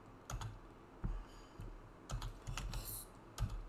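Quiet typing on a computer keyboard, with short bursts of clicking keystrokes in an uneven rhythm, close and alone.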